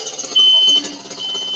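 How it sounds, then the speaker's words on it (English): A fire alarm blares a shrill, high electronic tone, starting abruptly at full loudness for about half a second, then sounding on at a lower level through the rest of the short clip. "He's fucking up the fucking fire alarm."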